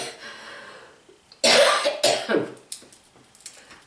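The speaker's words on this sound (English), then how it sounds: "I'm having a real hard time talking to y'all because I keep coughing." A person coughs hard several times in a short burst, close and loud, followed by a few softer throat-clearing sounds after a quiet stretch.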